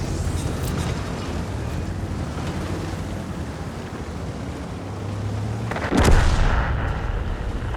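A Type 71 heavy tank's main cannon fires in World of Tanks, one loud, sharp boom near the end breaking through a continuous rumbling engine and ambient battlefield wash.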